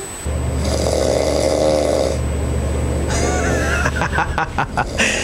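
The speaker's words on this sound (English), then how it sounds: "Snoring occurs when tissue in the back of the mouth collides and vibrates during breathing." Loud, close snoring with deep rumbling breaths and a rattling throat sound, followed by a few choppy snorts and breathy bursts.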